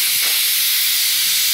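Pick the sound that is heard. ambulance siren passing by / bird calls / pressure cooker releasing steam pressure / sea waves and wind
pressure cooker releasing steam pressure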